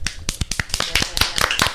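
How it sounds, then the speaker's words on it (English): A host gives a short burst of light clapping, about a dozen quick, close claps lasting under two seconds. "I'm going to do a little applause."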